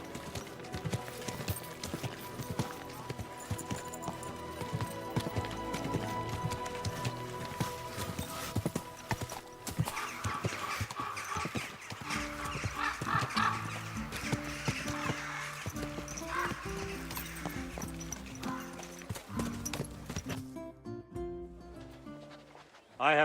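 Horse hooves while riding in Kingdom Come: Deliverance 2, a steady clip-clop of a horse going along, mixed with game music and ambience, with a voice speaking briefly.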